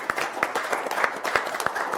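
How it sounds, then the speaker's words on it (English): Applause from a small audience at a county board of supervisors meeting, a scattered, modest round of clapping with distinct individual claps lasting about two seconds, heard alone without speech. "Would you join me in a round of applause?"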